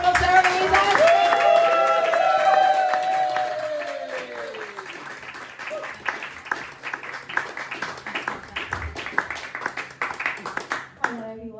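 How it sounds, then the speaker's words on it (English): Audience applause greets a comedian taking the stage at a London comedy night, dense clapping that is loud at first and then thins into scattered claps, with a voice speaking over the tail end. "let's get the applause going"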